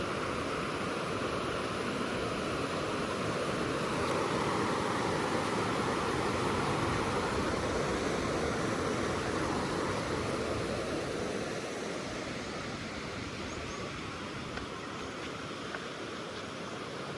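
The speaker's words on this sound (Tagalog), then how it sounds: "Oh, lakas ng alon, oh." Strong sea waves break along the shore at Masanga Point in General Nakar, Quezon Province, making a steady, loud roaring wash that continues unbroken without any voices.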